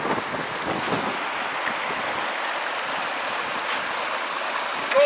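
Steady broadband rush of the East Fork San Gabriel River current flowing over rocks, a continuous close wash with no voices.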